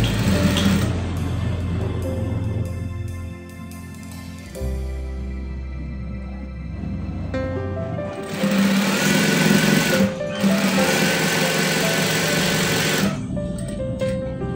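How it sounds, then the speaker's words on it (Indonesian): A sewing machine stitches a pocket onto children's trousers, running in steady whirring bursts with a brief pause midway, loud and close, with a little speech between runs. "Oke, kita jahit."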